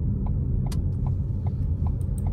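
Low engine and road rumble from inside a moving car, steady and moderately quiet, with a few faint clicks over the hum.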